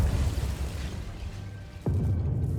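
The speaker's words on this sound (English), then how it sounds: "That was like an explosion." An explosion in the video game Hell Is Us goes off as a sudden low boom over a rumbling ambient background, a single hit partway through with the dark drone continuing afterward.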